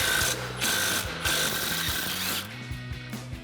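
An 18mm ratcheting wrench clicks steadily on a front shock nut of a RAM 2500 during a FOX shock install, rapid pawl ticks in repeated strokes, close and fairly loud with no talking.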